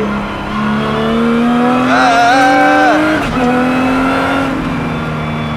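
Lotus Cup R race car engine roaring loud and close on a track, rising steadily in pitch, briefly dipping around a gear change, then holding a strong high drone; no talk.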